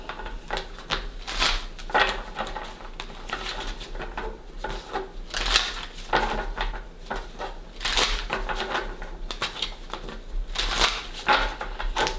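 Tarot cards shuffled by hand during a reading, a steady run of crisp riffling and papery slaps with brief bursts of fuller flutter, close and moderately loud, with no talking.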